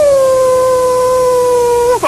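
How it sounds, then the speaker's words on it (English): A dog on a children's television show lets out one long, loud, drawn-out howl that holds a steady pitch before it breaks off at the end. "Can a dog bark?"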